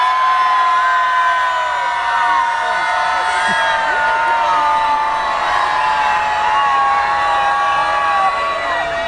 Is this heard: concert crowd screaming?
yes